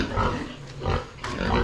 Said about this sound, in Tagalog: grabing baboy yan eh, no?